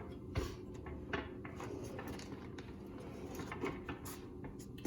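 Custom kitchen drawers with deep storage being slid open and shut, a series of knocks and thumps at close range alongside faint clatter, with no talking.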